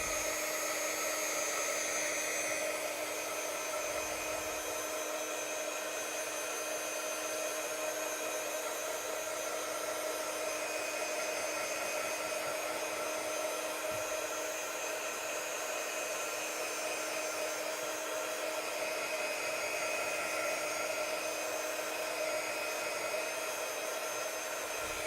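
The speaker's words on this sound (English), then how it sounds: "I'm using a heat tool. If you guys don't know what a heat tool is, crafters use it to melt the embossing powder." Crafting heat tool for melting embossing powder blows hot air in a steady, even whoosh that runs unbroken and close for the whole stretch, with no talking.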